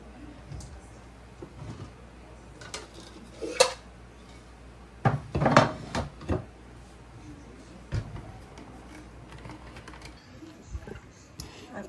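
Homemade copycat KFC coleslaw is spooned into a bowl in a home kitchen, giving scattered soft thumps, scrapes and light clinks of utensil against the bowl at an uneven pace, close by.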